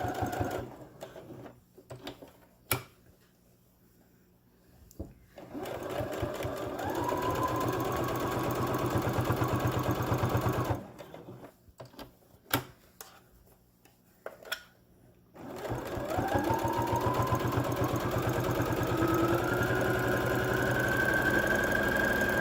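A sewing machine stitches a three-layer fabric face mask in several runs, each one a loud steady mechanical whir with rapid needle thumps. Quiet pauses with small handling clicks fall between the runs.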